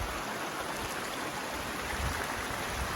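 A creek on segment 4 of the MST (Mountains-to-Sea Trail) runs with a steady, continuous broadband rush of water close by, with no voices.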